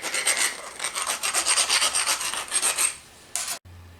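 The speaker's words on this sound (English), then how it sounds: "On your cut, you want to just file it down." Rhythmic rasping strokes of a file on a cut steel edge, close and loud, about a dozen quick back-and-forth passes, then it stops.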